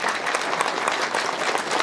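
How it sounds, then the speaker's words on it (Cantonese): Steady applause from an audience at an office-bearers' handover ceremony fills the space, dense continuous clapping throughout with a faint murmur of voices beneath. "大家恭喜，掌聲有請。"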